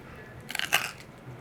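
Ranch-dipped pickle bitten into at close range: a short burst of crisp crunches followed by a brief louder crunch, alone in a quiet room.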